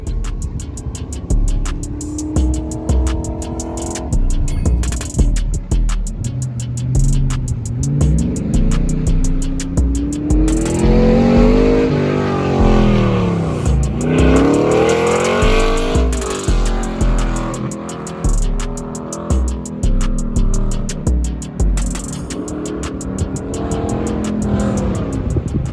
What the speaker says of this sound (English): That's autocross right there.